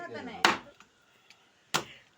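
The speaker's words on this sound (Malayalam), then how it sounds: "നമ്മുടെ ബീഫ് കൊത്തുന്ന പോലെ നമ്മുടെ മീനിന്റെ തലേനെ കൊത്തി കൊത്തി നുറുക്കുകയാണ്" A knife chops a fish head into small pieces for a Wayanad-style fish head curry. Three sharp, close blows land at uneven intervals with quiet gaps between them, and a voice talks briefly at the start.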